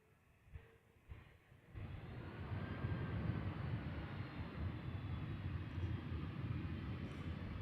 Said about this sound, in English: Didn't use a whole lot of thrust reversers on that one.